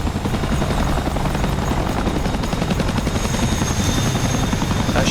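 Chinook helicopter flying in a war video game, its loud, steady rotor thumping and engine roar filling the whole stretch without any talk.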